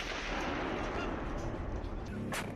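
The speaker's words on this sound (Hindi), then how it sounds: "105 mm की तोपों से हमला शुरू किया।" Indian Army 105 mm artillery guns firing across the Line of Control, heard as a dense, sustained roar of blasts and rumbling booms with a sharper report near the end, no voices.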